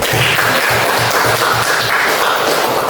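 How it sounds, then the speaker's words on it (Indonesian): Steady applause from a crowd, a dense wash of clapping that holds at an even level throughout. "Iya, tepuk tangan dulu."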